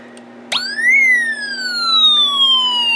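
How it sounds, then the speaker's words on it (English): Police siren from a Snap Circuits kit speaker, a loud electronic tone that starts abruptly, sweeps up and then glides slowly down, sitting over a constant low hum. "we get the police siren, and we can see our LEDs on, and it's nice and loud"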